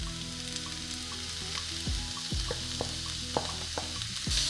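Chopped mushrooms fry together with spring onion and garlic in olive oil, a constant close sizzle broken by a few sharp scraping stirs of the pan, no voices.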